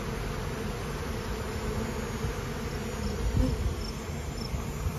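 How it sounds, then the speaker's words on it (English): Honey bees swarm into hive colonies in a robbing frenzy, a dense continuous buzzing hum from many insects at close range, steady throughout with no voices. "Look at the bees piling into the colonies."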